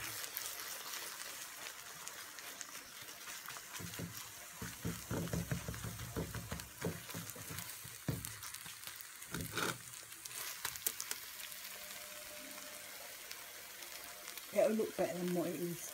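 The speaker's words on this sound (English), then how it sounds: "Eggs. And eggs being poured in." Two lightly battered eggs poured into a hot pan and frying, a steady soft sizzle with crackling bursts and scraping or stirring noises in the middle stretch, heard at close range.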